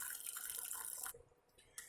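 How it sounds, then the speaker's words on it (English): Water being poured off from a pot of cooked watermelon for watermelon and ginger jam, a steady close splashing stream that cuts off, then a brief trickle. "So I want to pour off some of that water"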